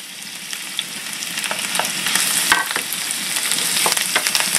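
Garlic and vegetables for a vegan chili fry in a hot pan with a strong, continuous crackling sizzle, broken by scattered sharp pops and the scrape of stirring. No one speaks.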